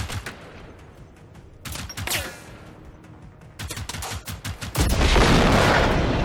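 Tank blows up in Generation Zero amid rapid bursts of gunfire, scattered sharp cracks early on, then a loud rolling explosion roar that fills the final seconds.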